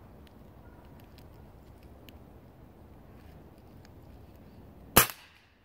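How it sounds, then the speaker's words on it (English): A single sharp gunshot cracks at a target after a stretch of quiet outdoor background, loud and brief with a short decay. "Where are you shooting at?"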